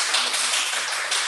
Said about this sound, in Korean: 박수 한번 주십니다.